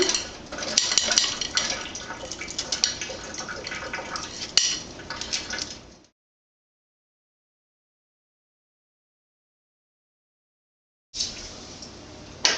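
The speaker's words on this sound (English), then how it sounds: "you want to go ahead and put your noodles in" Gnocchi tipped into a pot of milk with a wet, clattering splash for several seconds, then a long silence and another short burst of liquid and pot noise.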